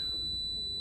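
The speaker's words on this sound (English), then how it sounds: "I love those Otis Series 1 chimes." An Otis Series 1 elevator chime: a single clear, sustained electronic tone, close and steady for under a second.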